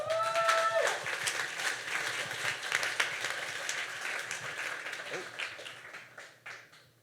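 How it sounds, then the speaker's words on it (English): Audience applause at a Fuckup Nights Toronto talk, welcoming the speaker; a room-filling wash of clapping that carries on for several seconds before thinning out, with a brief voice near the start. "Everyone give a huge round of applause to James"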